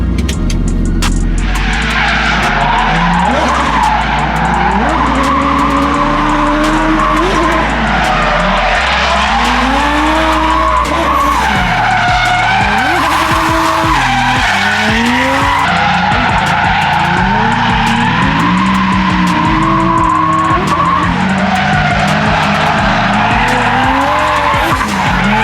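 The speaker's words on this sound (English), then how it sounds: "I'm actually gonna drive it, at least for a couple laps, so Adam can see me drive" A Toyota JZX100 drift car lapping a circuit in Japan, its engine revving hard and rising and falling through gear changes while the tyres skid and squeal continuously, loud and close, with no talking for the full stretch.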